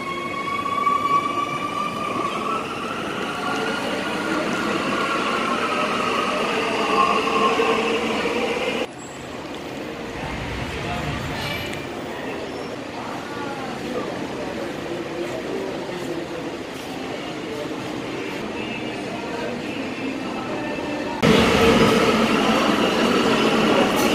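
Crowded metro train in Medellín riding along, with a steady rumble of wheels on rail and a noisy carriage interior, the sound shifting in level partway through as the train moves, no talking.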